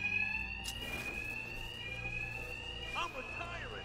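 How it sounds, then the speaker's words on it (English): A loud, steady electronic alarm rings continuously in the video game Batman: Arkham Knight, with voices and scuffling movement underneath. "these thugs can't hear a thing over the alarms"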